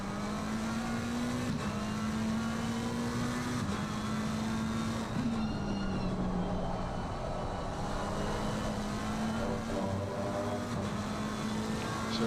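A McLaren GT3 race car screams through an onboard lap of Monza in a racing game, its engine holding a loud, steady drone with sharp pitch shifts at gear changes and braking, no talk over it.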